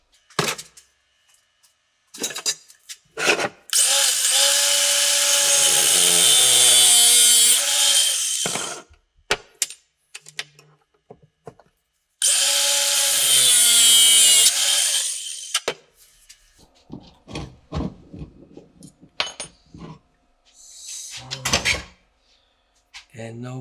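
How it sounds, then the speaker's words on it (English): Power tool cutting the side of a workpiece in two sustained, loud close-up bursts of several seconds each, separated and followed by scattered knocks and handling clatter. "So now we cut the side."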